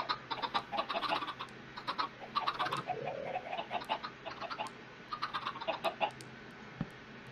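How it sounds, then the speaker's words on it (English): Minecraft chickens clucking in quick, close bursts of short chirpy calls, with small gaps between clusters and no talking. "Chickens, guys, chickens."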